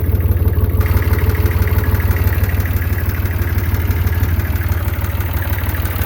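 An old tractor engine, rebuilt after sitting unused for 30 years, idles steadily nearby, a loud, even chugging rumble that never changes pace.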